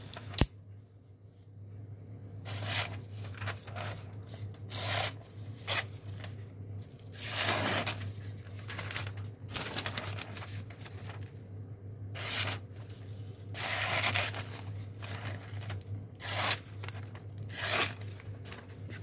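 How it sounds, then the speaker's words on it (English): A plain-edge knife slices phone book paper in repeated sharp, rasping tearing strokes over a steady low hum, with no talking. "let's see how sharp it is with some phone book paper"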